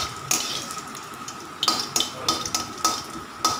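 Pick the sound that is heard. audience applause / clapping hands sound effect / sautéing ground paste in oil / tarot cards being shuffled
sautéing ground paste in oil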